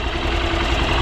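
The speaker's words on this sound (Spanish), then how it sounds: "El motor a mí se me hace que es muy parejo." A Hero XPulse 200 motorcycle engine idles at a low, even rumble, close and steady, for about a second.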